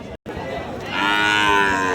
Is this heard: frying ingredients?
no